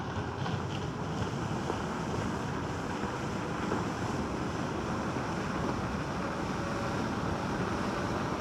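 Leoout T85 electric scooter riding at full throttle off-road, a steady broadband rush of wind buffeting and motor whine that stays loud and constant throughout, with no speech.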